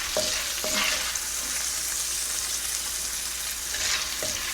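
Shrimp frying in a skillet for a Creole-style dish, giving a continuous close sizzle with a few sharp clinks and scrapes of a utensil against the pan.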